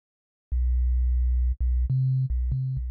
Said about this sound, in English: Pretty subby sine wave